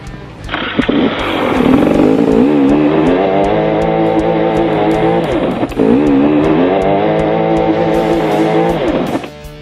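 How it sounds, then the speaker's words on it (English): An enduro motorcycle revs hard with its back wheel spinning, stuck in a hole on a steep climb. The loud, close engine holds high revs for several seconds with a dip midway and no talk. "I'm busy spinning my wheel up and I'm not going anywhere"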